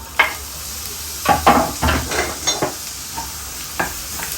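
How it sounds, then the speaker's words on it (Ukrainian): Onion sizzling in a hot pan while a utensil stirs and scrapes, with several distinct clacks and scrapes over a steady frying hiss. "Так, цибулька у нас підсмажується"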